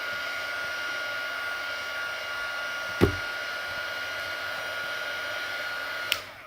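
A hair dryer blows with a steady, even whoosh to dry alcohol inks on altered playing cards, running loud and constant, with a sharp tap near the middle and another near the end.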